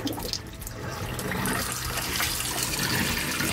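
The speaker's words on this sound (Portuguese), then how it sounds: "agora eu tenho água nas torneiras" Water runs steadily from a motorhome tap, a continuous moderate splashing rush that stays even throughout.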